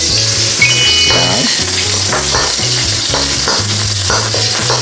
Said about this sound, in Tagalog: Siyempre, gisa na po natin ang ating sibuyas.